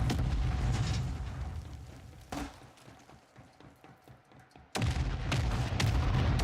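Mortar strike explosions in a video game: a dense burst of blasts, a sharp impact near 2.3 seconds, a rumbling patter of smaller hits, then another loud blast at 4.7 seconds followed by sustained heavy rumble.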